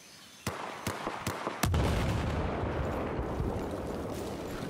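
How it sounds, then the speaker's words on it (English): In a military simulation, a few sharp pops are followed by a heavier explosion after a fire-in-the-hole warning. The blast leaves a lingering rumbling wash, and no voices are heard. "Stand back. Fire in the hole,"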